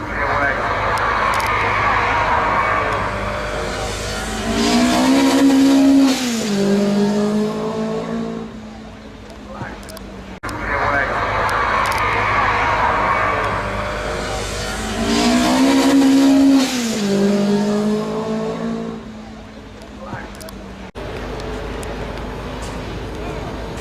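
An Alta Grand Prix racing car with no front springs, at a motoring pageant, revs its engine loudly with a rising and falling harmonic whine as it drives onto the line, heard twice, with crowd and ambient noise.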